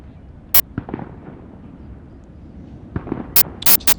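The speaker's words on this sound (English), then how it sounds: "Lindsay, I'm not sure what the explosions are in the background. Hopefully not too close to them. Fireworks, perhaps." Fireworks bursting in the distance beyond a golf course during a ladies' professional tournament final round in Xiamen: a sharp lone crack early, then a rapid cluster of three or four loud pops near the end over faint outdoor background.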